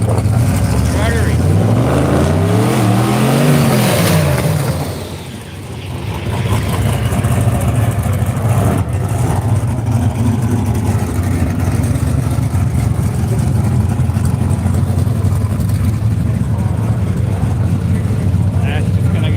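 HB 638, a rotary-engined radial drag racing car, runs loud and continuous throughout, its revving rising and falling early on before settling into a steady heavy drone, with voices talking over it.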